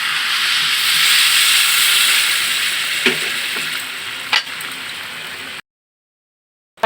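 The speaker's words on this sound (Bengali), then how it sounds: "চাল ডাল ভালোভাবে ভাজা হয়ে গেছে এবার আমি দিয়ে দিব ফুটিয়ে রাখা গরম জল পরিমাণ মতো" Hot water hits fried rice and mung lentils in a pan, producing a loud, bright hissing sizzle that slowly fades over several seconds, with a couple of clinks, before cutting to silence.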